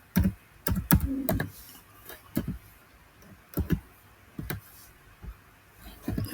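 Fingers type on a computer keyboard while entering data in Google Sheets, with bursts of close, crisp key clicks separated by short pauses and no talking.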